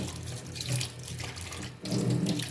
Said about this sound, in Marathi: आता मटण आणलं आहे बकऱ्याचं म्हणलं चला धुवून घ्यावं